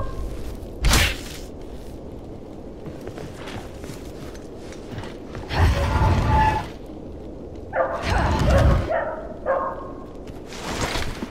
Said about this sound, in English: whoever owns that dog needs to shut it the hell up